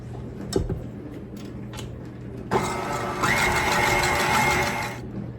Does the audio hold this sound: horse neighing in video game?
no